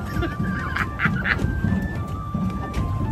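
Geese at a lake honk repeatedly in short, close bursts, several calls overlapping with outdoor background noise and faint voices nearby.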